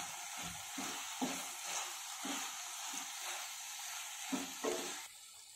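Turmeric, Kashmiri red chilli and coriander powder stirred into softened tomatoes in a pan for aloo palak, with a soft ongoing sizzle and rhythmic scraping strokes of the spoon, close up and without speech.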